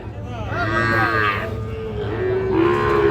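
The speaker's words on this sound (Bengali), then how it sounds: "এই পাশে একটা বকনা বাছুর দেখতেছি সাইওয়াল কিন্তু" A young Sahiwal heifer calf at a cattle market gives two drawn-out moos close by, the second rising higher, over a low background hum and crowd murmur.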